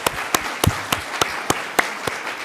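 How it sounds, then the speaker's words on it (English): A sparse round of applause at a security forum honoring Ambassador Sugiyama, with a few distinct claps landing in a loose, fairly regular rhythm over a soft hall background. "So if I could ask for one more round of applause for Ambassador Sugiyama."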